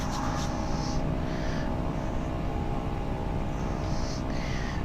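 Steady, loud engine drone of an airliner taxiing across grass in a flight simulator game, a continuous low rumble with faint higher whine bands, no talk over it.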